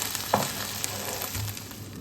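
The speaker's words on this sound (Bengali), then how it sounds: "এবার আমি আগে থেকে সেদ্ধ করে রাখা ঘুগনির মটরটা দিয়ে দিলাম।" Boiled ghugni peas go into a pan of sizzling, well-fried spice paste, which crackles and hisses loudly up close. A few scraping stirs and light clinks break through the steady frying.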